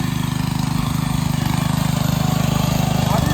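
A tractor engine runs steadily and loudly close by while plowing a field for a sesame crop, a continuous rumbling drone with a fast regular pulse and no talking.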